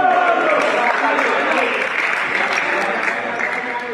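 A crowd at a men's Serie C volleyball match in the Palantendere arena, Padova, claps and cheers in a dense, sustained wash of applause that eases slightly as it continues, with a commentator's voice over it.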